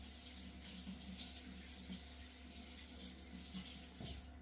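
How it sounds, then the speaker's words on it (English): Tap water runs steadily into a sink during hand washing in a home kitchen, a faint continuous hiss and patter lasting the whole stretch with no talk. "I'm going to wash my hands."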